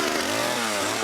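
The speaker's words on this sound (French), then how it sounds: "Ivre sur la glace avec une tronçonneuse" A chainsaw running out on ice: a loud, steady motor drone with a buzzing pitch that rises and falls slightly as the engine revs, alone and close.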